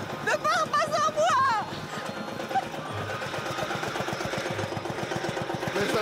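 A tractor engine chugs with a steady mid-pitched putter through most of the stretch, while a voice speaks loudly over it near the start.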